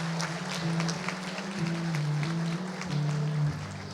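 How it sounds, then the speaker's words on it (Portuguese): Congregation applauding in a church during a family service, a soft continuous patter of clapping under a low sustained voice or hum, fairly faint and even throughout. "Vamos aplaudir o Senhor pela vida deles?"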